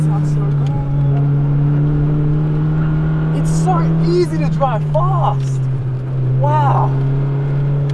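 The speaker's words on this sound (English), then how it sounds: "Oh, the V10 sounds so good." V10 engine of a race car on a track day, a loud sustained drone that rises and shifts pitch, with a man briefly exclaiming over it.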